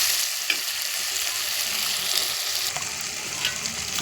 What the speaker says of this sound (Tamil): இன்னும் கொஞ்சம் வெண்டைக்காய் எண்ணெயில் கொஞ்சம் வதக்கிட்டு